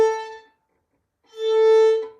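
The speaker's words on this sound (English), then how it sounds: "If you're holding your bow too loosely, it's gonna sound like this." A violin is bowed with a loose, unsteady bow hold: two separate sustained notes with a gap between, the tone wavering and thinning toward the end.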